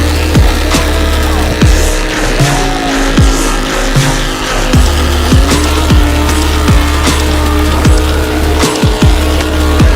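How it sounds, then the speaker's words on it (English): A burnout-competition-winning car roars at high revs with its tires squealing continuously, a loud sustained engine-and-tire din running throughout without talk. "This car is crazy. It won a burnout competition."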